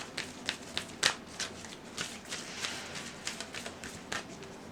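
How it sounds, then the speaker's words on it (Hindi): Soft riffling and slapping of a deck of cards as one card is drawn, a quick run of light papery flicks and taps heard close and fairly quiet. "एक और कार्ड निकाल लेते हैं"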